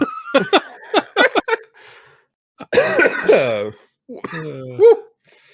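A person coughs and clears their throat in a quick run of short hacks, then a longer rasping throat clear and a final cough, close to the mic.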